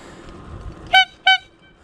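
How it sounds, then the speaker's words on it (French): Two short, sharp toots from a bicycle horn, evenly spaced and close by, standing out clearly against quiet background hiss. "Alors, le klaxon."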